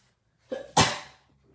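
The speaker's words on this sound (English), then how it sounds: "I'm coughing too" A short intake of breath followed by one sharp, explosive cough, close and fairly loud, fading quickly into quiet.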